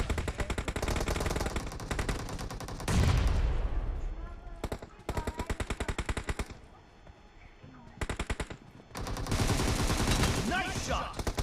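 Rapid bursts of automatic gunfire in the battle game BGMI during a team deathmatch, loud repeated volleys separated by short pauses, with a heavy burst near the middle.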